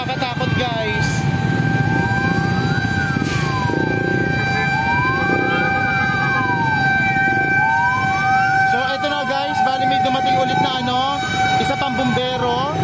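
Fire truck sirens arriving at a house fire in Layac, Dinalupihan, Bataan, with several loud sweeping wails that overlap and repeat over crowd noise and voices throughout.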